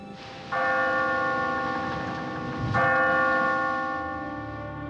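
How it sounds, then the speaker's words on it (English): An old settler's bell in a cartoon rings twice, each clang a bright, sustained metallic tone that rings on and slowly fades, heard alone at moderate distance. "Dad, we found the settler's bell. Can you hear it?"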